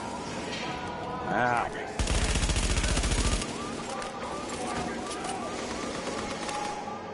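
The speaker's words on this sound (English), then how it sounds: "Shoot at the other person, not me." Gunfire in The Division's Dark Zone: a sustained burst of rapid automatic shots, loud and close for over a second, with scattered quieter shots and game noise around it.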